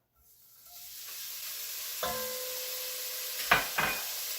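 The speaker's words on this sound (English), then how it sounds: "smush it down into the pan" Bacon sizzles in a heavy Dutch oven, a steady close hiss building as it hits the hot pan, with a few sharp scrapes and taps of a spatula pressing it down near the end, no talking.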